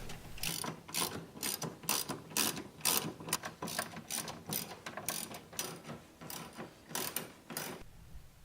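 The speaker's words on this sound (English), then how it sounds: "reattach the 10mm bolts." A ratchet drives 10mm bolts on a 1993 Miata shifter during a racing shifter rebuild, giving rapid clicking bursts in quick repeated strokes, close up and clear with no voices.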